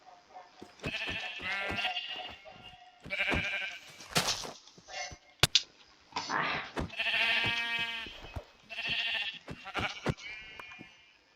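Several sheep bleats in the video game Minecraft, close and fairly loud, in repeated short cries with quiet gaps between them and sharp clicks and thuds mixed in.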